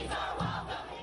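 Protest crowd at an immigration rally in the United States chanting slogans in unison, a loud, brief burst of massed voices rising and falling.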